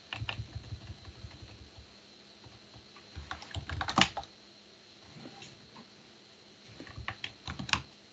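Bursts of keyboard typing on a computer keyboard as a Linux AppArmor status command is entered, clustered keystrokes with short pauses between runs, close and clear with no talk.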